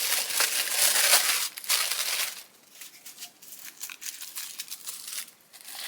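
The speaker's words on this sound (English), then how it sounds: "Maybe the sound of the tissue paper shows up and you guys like that." Tissue paper crinkles and tears close up while a Doctor Doom helmet is unboxed, with dense, crisp rustling for the first two seconds that then thins into scattered, softer crackles and rustles.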